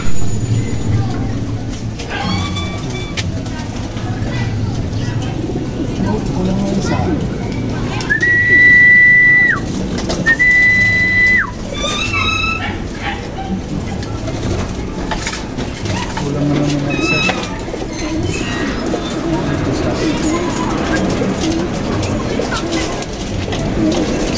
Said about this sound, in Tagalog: So yung mga kalapati natin, nung nakita tayo, lumipat na doon sa bubong.